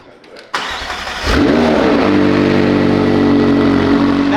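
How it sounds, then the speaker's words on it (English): A McLaren with its stock exhaust starts up with a sharp crank, then settles into a loud, steady idle that runs alone for several seconds. "That does not sound bad for a stock exhaust."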